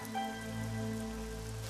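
Rain falls steadily and softly, a faint continuous patter with a low sustained hum running beneath it and no voices.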